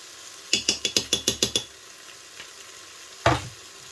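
Browned food with tomato paste is stirred in a Cookeo pot: a quick run of about eight rhythmic scraping strokes, then a faint tap and one louder clunk against the pot, over a quiet sizzle.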